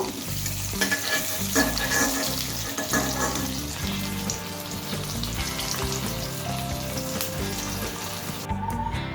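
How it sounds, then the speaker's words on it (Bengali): Pieces of hilsa fish fry in oil in a pan, giving a loud, dense, continuous sizzle and crackle close by with no talking, until it cuts off sharply at the very end. "বাকি পিসগুলো ভেজে নেব। এই মাছগুলো ভেজে নেওয়া হয়ে গেছে"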